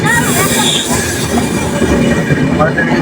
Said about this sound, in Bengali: পাশে যাচ্ছে পদাতিক এক্সপ্রেস।